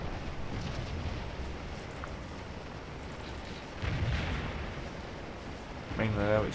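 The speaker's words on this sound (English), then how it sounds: "it's just mass cannon fire" Massed cannon fire in the Scourge of War battle game, a continuous rumbling wall of distant artillery booms with a louder surge near the end, while someone talks faintly over it.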